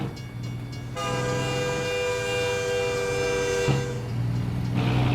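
A train rumbles past close by in the video game American Truck Simulator, its long horn blaring steadily for a few seconds over the rolling, droning noise of the wheels.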